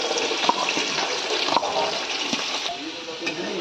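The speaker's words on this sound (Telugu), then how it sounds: "ఈ ఉల్లిపాయలు వేగుతున్నాయి కదా" Sliced onions and green chillies frying in hot oil in a pan, a loud, steady, broadband sizzling hiss that runs close and continuous throughout.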